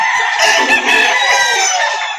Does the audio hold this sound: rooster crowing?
yes